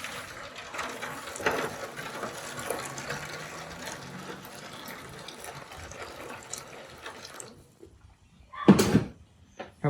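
Boiling water pours into a pan of lamb shanks in a smoker setup, a soft continuous trickle and splash followed by a louder clunk near the end.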